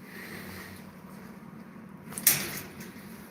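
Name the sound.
door being closed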